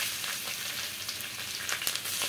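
Chopped garlic dropped into hot oil with whole spices such as cinnamon, cardamom, cloves and cumin, producing a dense, even, close sizzle and crackle throughout a short stretch with no voices.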